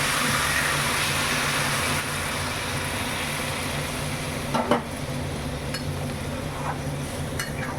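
A spiced cauliflower and potato curry sizzles in a pan. Hot water is poured in, and the steady hiss drops a little in level. A few scrapes and clinks of utensils follow, with no talk.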